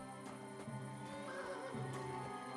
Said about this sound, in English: Heard a horse.